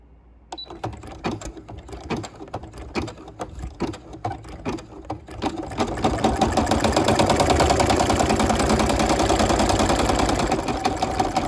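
An embroidery machine stitches out a letter B, starting with a series of spaced mechanical thumps and then settling into a rapid, loud continuous rattling hum of needle strikes.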